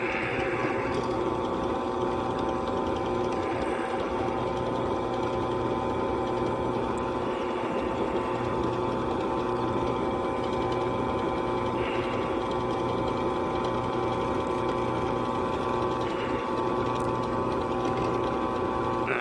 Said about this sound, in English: Chamfer bit's getting a little dull here. A lot of stainless steel.